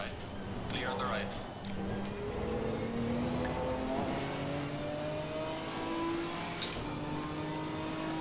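Race car engine revs and rising gear whines in a sim racing game, a continuous mid-pitched drone with shifting tones as cars run close alongside.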